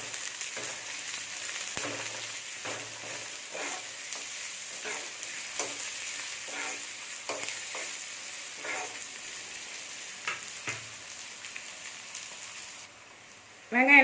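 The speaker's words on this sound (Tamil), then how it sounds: "நான் ஒரு மூணு பச்சை மிளகாய் கட் பண்ணி வச்சுருக்கேன் சின்ன சின்னதாக இது எல்லாமே இப்போ வதக்கிக்கோங்க" Chopped green chillies sauté in a pan for rava paniyaram, a soft continuous sizzle with occasional scraping stirs throughout and a faint voice underneath.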